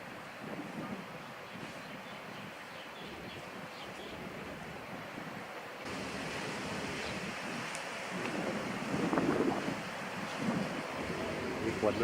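Sea waves and gusting wind on a stormy, rainy morning at Cha-am beach in Thailand, a constant rushing roar with surf swelling louder toward the end and wind buffeting the microphone.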